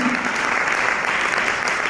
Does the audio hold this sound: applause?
yes